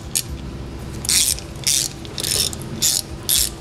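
Ratchet wrench tightening the axle nut on a Mule hub: several quick bursts of close, loud ratcheting clicks in an uneven rhythm, with no voices.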